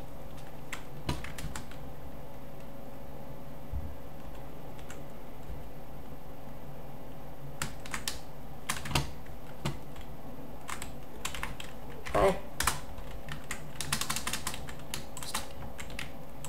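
Computer keyboard keys clatter in quick irregular bursts while someone plays a Minecraft-style game, close and fairly quiet, with denser flurries of typing toward the end and no speech.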